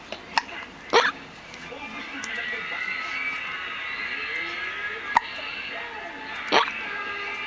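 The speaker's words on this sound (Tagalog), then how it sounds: "Sinok ka naman nak?" A one-month-old baby hiccups, with sharp little clicks that recur irregularly a few times over several seconds, close and distinct above a soft steady background hiss.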